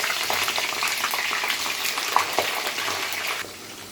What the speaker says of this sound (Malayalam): ഇനി നമുക്ക് ഈ എണ്ണയിലേക്ക് തന്നെ വഴുതനങ്ങ ഇട്ട് വറുത്തെടുക്കാം